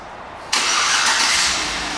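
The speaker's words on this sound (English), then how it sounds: "And the car starts right on." A 2009 Chevrolet Suburban LT engine starts by remote start, catching abruptly after a moment of quiet and settling straight into a steady, loud idle close by, with no talking.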